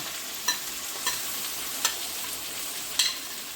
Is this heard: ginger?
yes